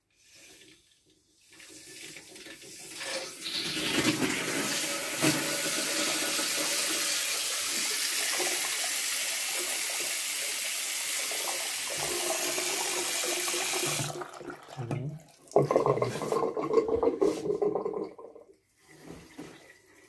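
Water gushes steadily from an open hot-water tap through PVC plumbing on a galvanized pipe column, a loud continuous rush that cuts off, then splutters and surges again in bursts near the end.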